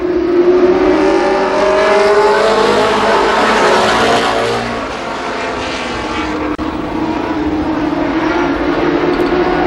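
Late model race cars roaring around Columbus Motor Speedway during a 1993 Memorial Day Classic heat race, a loud, dense wall of engine noise that swells and dips slightly as the pack passes, with no talk.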